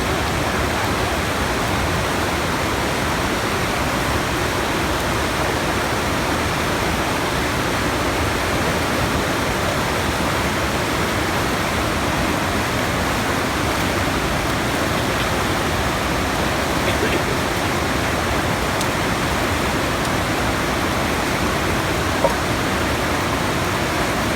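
Bidadari waterfall in Aceh pours steadily, a dense, even rush of falling water that stays loud and unbroken throughout with no other sounds standing out.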